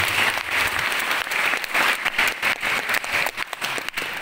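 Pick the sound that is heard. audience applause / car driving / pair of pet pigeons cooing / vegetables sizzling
audience applause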